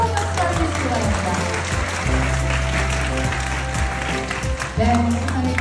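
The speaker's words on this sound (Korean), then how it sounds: "여러분 뜨거운 박수 받으시기 바랍니다" Applause from the audience at an award ceremony at the Cyber Guardians Conference 2024, honouring a winning high-school team, a steady wash of clapping that runs throughout beneath a low sustained tone and some voices.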